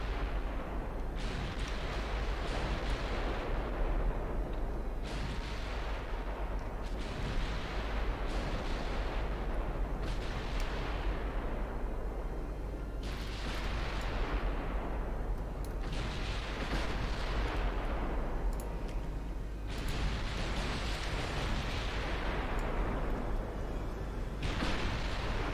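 Heavy naval guns from the Ultimate Admiral Dreadnoughts warship game fire in repeated deep booms, each salvo followed by a long rumbling decay, evenly spaced every few seconds over a constant low background.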